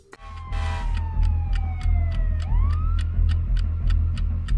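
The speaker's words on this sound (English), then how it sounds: "I hate sirens." A police siren wails and sweeps up and down, loud and close, over a steady rhythmic clicking and a low engine drone.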